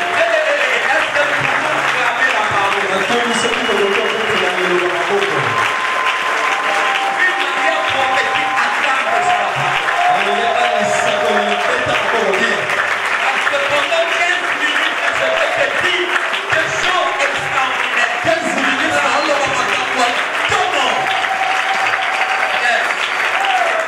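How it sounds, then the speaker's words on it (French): Church congregation applauding and cheering together during a sermon, a dense, steady wave of clapping and voices sustained throughout at close range. "Est-ce que nous pouvons acclamer la parole?"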